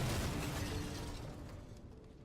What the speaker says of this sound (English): I heard a deafening explosion. Was that a gas explosion?